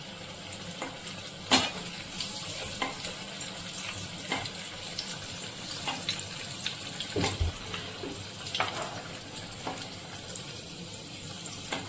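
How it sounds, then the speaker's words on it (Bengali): Steady crackling sizzle of chicken chops frying in hot oil, with occasional sharper pops and clinks throughout, no voices. "এবার আমি চপগুলো একটা একটা করে ভেজে নেব"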